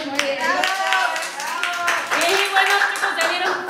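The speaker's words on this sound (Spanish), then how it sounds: "un aplauso para todas, chicas, muy bien" Clapping for a group of women participants at a Mother's Day lunchbox event, light hand claps mixed with cheerful voices and talk over the top.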